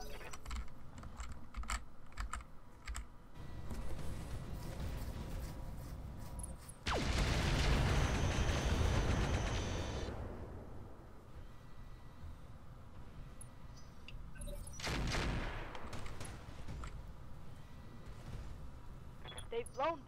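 Thumper artillery shells slamming into a mech in the Roguetech battle game, with one long loud blast roaring for several seconds and a shorter second burst later, over keyboard typing clicks and a voice.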